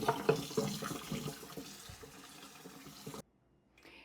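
Hot water runs from a tap into a pot in a home kitchen while preparing tomatoes for freezing, a steady splashing rush that stops abruptly near the end, leaving near silence.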